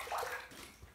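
Water from a tap runs over a Chieftain safety razor head while it is rinsed during a shave, a brief close splashing rush that fades after a moment.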